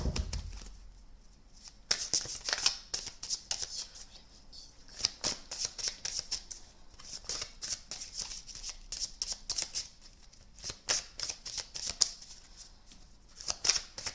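A deck of large playing cards is shuffled by hand in repeated riffling bursts, crisp and close, with short pauses between passes and no talking.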